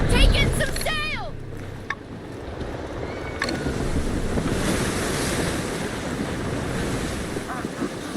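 Strong wind and rolling sea waves surround a sailing ship in the game Assassin's Creed Black Flag, a loud, continuous gusting roar with surf. Brief shouted voices come near the start.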